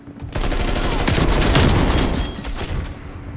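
Rapid gunfire from a nail gun weapon in a Call of Duty: Cold War multiplayer match, dense and loud bursts running continuously for a few seconds with no speech over it.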